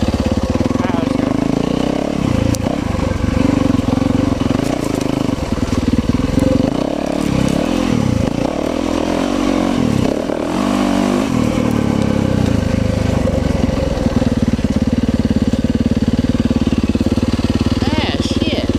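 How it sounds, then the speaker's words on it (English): An enduro dirt bike engine runs loud and close throughout, idling and revving with rough, uneven throttle surges on a trail, a rider talking over it at times. "See if I can shut my bike off."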